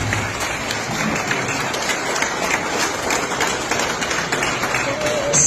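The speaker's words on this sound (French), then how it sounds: "ce applaudissement, s'il vous plaît" An audience at a public meeting applauds in a dense, steady wash of clapping that lasts the whole stretch, with voices faintly mixed in.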